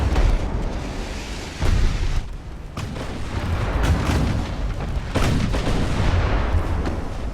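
Naval guns firing from warships in Ultimate Admiral: Dreadnoughts, a string of heavy booms and rumbling blasts, loud and continuous, with impacts rolling one into another and no talk over them.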